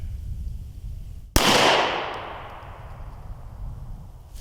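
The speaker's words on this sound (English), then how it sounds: "I guess we gotta shoot the right one anyways." A single sharp 9mm gunshot into cheap body armor outdoors, one loud crack followed by a long fading echo after a quiet lead-in.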